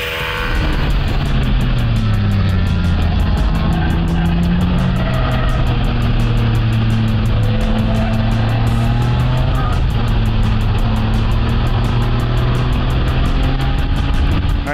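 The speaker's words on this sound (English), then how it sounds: "So all we need to do is start up the engine," A race car running on a track, its engine drone steady and loud throughout with shifting pitch as it accelerates and eases off, close and continuous with no talk.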